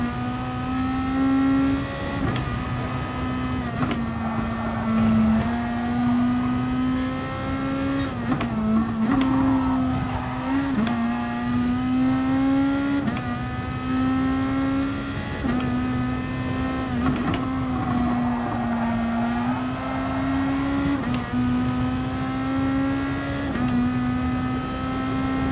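A race car in a racing video game drives along, its engine whining steadily with rising and falling pitch as it shifts and accelerates, continuous and prominent with no voices.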